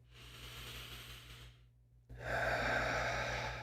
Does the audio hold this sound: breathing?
yes